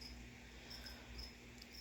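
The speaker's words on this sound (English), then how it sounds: "You hear that cricket? That cricket is driving me crazy." A cricket chirps indoors in a home theater room, giving faint, repeated high chirps over a steady background hiss.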